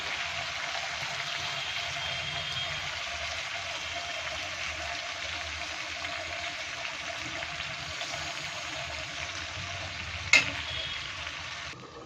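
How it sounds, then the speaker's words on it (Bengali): Fish curry simmers and sizzles in a pan after water is added, a soft continuous bubbling hiss with light stirring and a single sharp clink of a utensil near the end. "জল দিয়ে বেশ করে নেড়ে চেড়ে চতুর্দিকে একটু ঝোলের সাথে সব কিছু মিশিয়ে টিশিয়ে দিয়ে"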